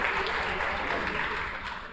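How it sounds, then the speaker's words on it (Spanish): An audience at a national training session on Bolivarian socialism applauds, with close, steady clapping that holds for about two seconds and tapers slightly at the end. "vamos a darle un aplauso"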